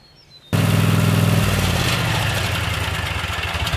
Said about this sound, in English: you need to get yourself a lawnmower.